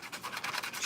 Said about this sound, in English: I'm gonna crease this paper